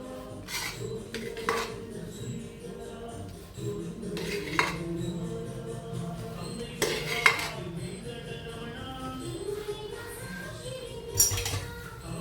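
Eggplant rice is mixed in a pan with intermittent scrapes and clinks of a spoon against the metal. The sounds come from nearby and stay fairly faint, over a low background.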